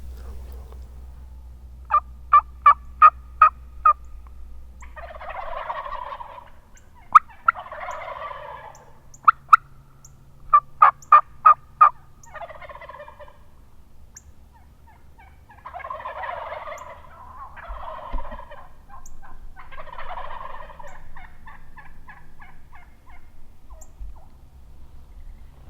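Wild turkeys gobbling on public land during a hunt, several bursts of rapid rattling gobbles coming from a distance, some overlapping, with quieter clucks and purrs between them over faint outdoor background.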